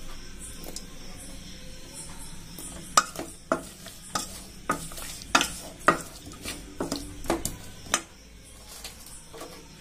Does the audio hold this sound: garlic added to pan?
yes